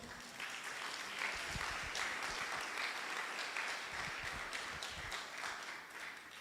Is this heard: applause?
yes